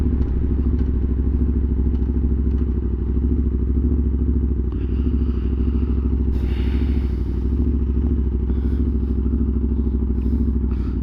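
A 2020 Aprilia RSV4 1100 Factory superbike engine roars steadily and loudly up close, with a constant deep throb, some rattling clatter and a brief brighter surge partway through.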